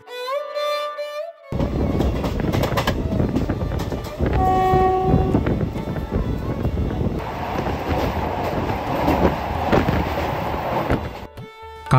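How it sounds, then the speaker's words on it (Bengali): A train pulls into Gangatikuri railway station, a horn blast opening over a loud rumbling, clattering run of wheels and wagons, with a second tonal horn or brake note midway, heard close and alone. "কাটোয়া থেকে ট্রেনে উঠে আমি নামি গঙ্গাটিকুড়ি স্টেশনে।"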